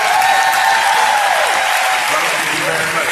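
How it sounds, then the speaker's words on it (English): An audience breaks into sustained applause at an event honoring people, a dense, even wash of clapping that holds steady for several seconds, with a voice faintly over it. "Everybody give them a round of applause."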